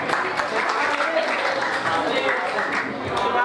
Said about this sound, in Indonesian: Oke, tepuk tangan dong buat temannya.